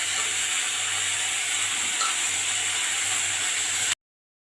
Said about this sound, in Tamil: இப்போ இதில் பார்த்திங்கன்னா நம்ம வந்து மிளகு சீரகம் கருவேப்பிலை ஆனியன் எல்லாத்தையும் போட்டு வதக்கிறோம்